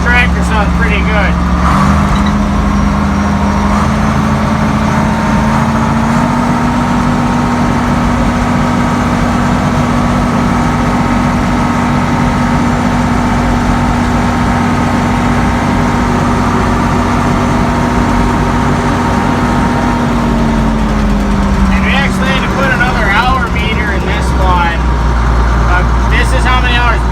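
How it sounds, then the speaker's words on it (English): A tractor engine idles steadily and close throughout, a constant low rumble with a slight shift in pitch partway through, on a farm near a cow yard. "This tractor sounds pretty good."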